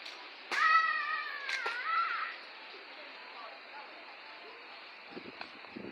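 A cat lets out a couple of drawn-out meows, fairly close, and then quiet background noise continues.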